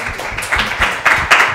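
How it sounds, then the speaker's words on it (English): An audience at a student government debate applauds the VP External candidates, with a brief burst of close, lively clapping that grows a little louder toward the end. "Round of applause to VP External candidates"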